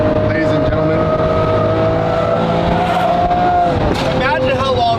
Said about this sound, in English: And the sound of this car, I missed it.